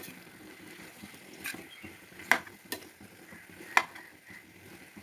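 Fried prawns and jackfruit are stirred together in a wok, a soft sizzle running underneath as the spatula scrapes and taps the metal a few times, close and fairly quiet.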